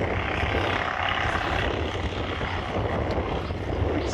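A propeller aircraft lines up at an airshow, a loud, steady engine drone and broad roar filling the scene without a break, with no clear voices over it.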